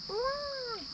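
A single drawn-out cat meow at night near a lakeside campsite, rising then sliding down, clear and alone against a quiet background hiss.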